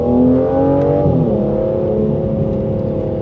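A 2025 Aston Martin Vanquish with a 12-cylinder engine accelerating, a loud, close, smooth multi-toned engine roar that rises briefly then holds steady throughout.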